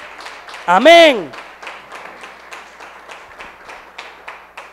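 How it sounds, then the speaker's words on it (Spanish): Congregation in a church service clapping in a steady, brisk rhythm, moderately loud, under a loud shouted voice near the start and continuing beneath the room's sound. "dele un aplauso fuerte al Señor"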